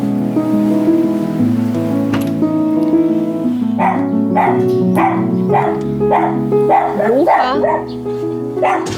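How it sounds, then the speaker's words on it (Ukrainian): A dog barks repeatedly in a steady series of close, loud yaps during the second half, over a sustained tonal background hum. "Ну не гавкай"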